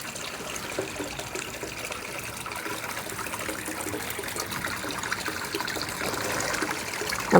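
Water trickles steadily in a garden fish pond holding goldfish and carp, a continuous soft babbling close by with no talk.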